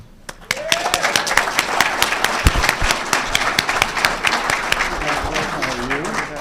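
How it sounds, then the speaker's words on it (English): Audience applause at an award ceremony for a communications agency hall of fame induction, steady sustained clapping from a large crowd, loud and close, lasting throughout. "please applaud our 2022 White House Communications Agency Hall of Fame inductee, CW4 Jacob Wildy."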